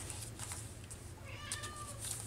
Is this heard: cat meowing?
yes